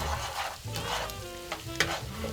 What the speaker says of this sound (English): I'm going to scramble them in the pan.